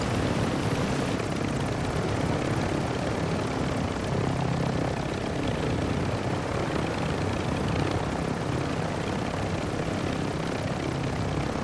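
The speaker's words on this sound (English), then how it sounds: "Helicopter." A helicopter in the Call of Duty Warzone video game drones steadily with a dense rotor and engine roar, constant and fairly close throughout with no talk.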